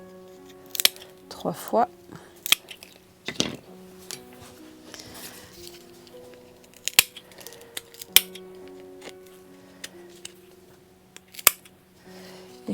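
Scissors snip the small hooks off Christmas star baubles in a handful of sharp, close cuts spread out at irregular intervals, while someone speaks softly in French and a tune plays quietly underneath.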